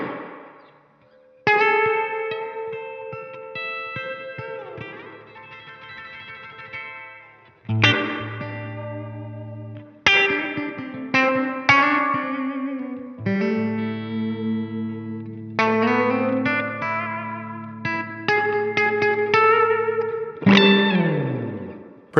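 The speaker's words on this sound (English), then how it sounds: "let's turn that reverb all the way up and see what it does" An electric guitar runs through a Blackstar St James JJN 50 tube amp head with the reverb turned fully up, playing loud sustained chords and riffs that ring out with long washy tails between phrases.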